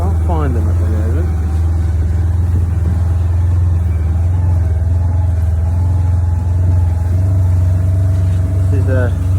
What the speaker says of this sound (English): This is a good vehicle to get us through this terrain, I tell you.